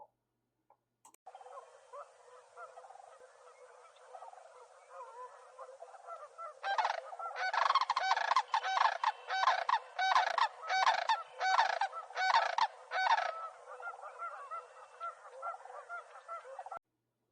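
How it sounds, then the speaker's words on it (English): Sandhill cranes give loud rolling, rattling bugle calls, several birds overlapping in a rapid pulsing chorus that builds midway and then tapers off, heard outdoors with no talking. "The following video is a perfect example of a sandhill crane call."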